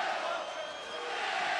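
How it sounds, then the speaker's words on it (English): A boxing crowd jeering and shouting at the referee after a twelve-round fight, a brief dense roar of many voices in an arena. "you could hear the crowd saying some nice things to the referee"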